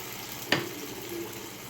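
Sweet potato paniyaram batter poured into a hot pan sizzles steadily throughout, with a brief splash and clink as the batter goes in, close and fairly soft.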